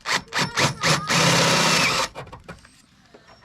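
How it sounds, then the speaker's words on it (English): A drill boring holes with a 9mm bit for M6 rivet nuts in a VW Caddy Maxi micro camper van conversion, a loud steady whine of about one second followed by a fading spin-down. "So I'm going to drill these out just slightly bigger."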